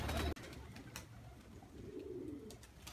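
A pigeon, apparently a black female, coos softly in a low, rolling call under faint background noise, after a brief loud burst at the very start.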